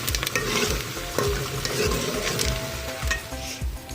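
Close, busy frying sizzle of onions and ginger-garlic paste for dhaba-style chana dal, with a spoon stirring and scraping the pan in uneven strokes, pops crackling over the hiss; no one speaks.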